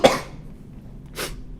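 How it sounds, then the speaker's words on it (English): A person coughs sharply once, loud and close, followed after a pause by a second, softer cough, with no talking. "I've got a cough, guys."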